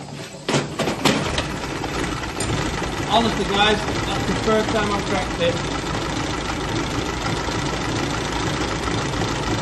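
A revived 1934 Austin Seven engine coughs into life and settles into a rough, ticking idle with a slightly uneven rhythm, close up, while someone talks over it.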